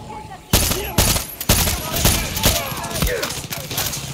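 Gunfire from a weapon in the video game Far Cry 6: a run of loud, close single shots roughly every half second, each a sharp broadband crack over steady background game noise.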